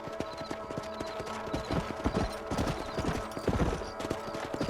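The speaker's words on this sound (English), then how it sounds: "Let's get back on the horses and see what else is going on." Horses gallop across open ground in the Xbox 360 / PS3 western game Red Dead Redemption, steady hoofbeats drumming close and continuous, with a brief whinny under the clatter.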